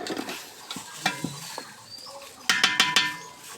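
Whole spices such as bay leaf, cinnamon and cloves sizzle in soybean oil in a pot, with crackling bursts and stirring scrapes, louder toward the end.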